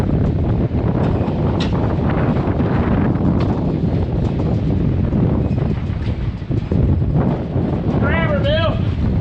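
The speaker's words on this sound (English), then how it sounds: "That wind's serious." Strong wind buffets the microphone at a silo demolition prep site, a continuous loud roar with gusty swells throughout and a brief voice near the end.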